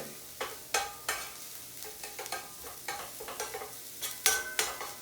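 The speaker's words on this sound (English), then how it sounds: "The shallots need to sweat before we perform our flambe." Finely diced brunoise shallots sweat in a hot pan for Steak Diane, a soft continuous sizzle broken by repeated sharp scrapes and taps of a utensil stirring them, close and moderately quiet.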